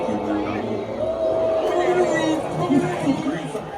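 Waiting crowd chatter in the queue soundtrack of the Rock 'n' Roller Coaster Starring The Muppets ride, a steady murmur of many voices with a few clearer tones rising above the babble throughout.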